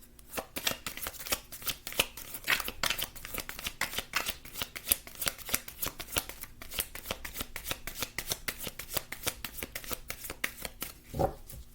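Tarot cards being shuffled, a long run of rapid, crisp riffling flicks repeating close up and fairly quiet, with no talking.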